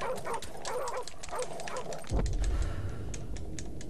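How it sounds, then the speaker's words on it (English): Dogs in Call of Duty 4: Modern Warfare Remastered, 'All Ghillied Up' level, barking repeatedly and close, then a heavy low thud, with faint game ambience and keyboard clicks underneath. "I hate dogs."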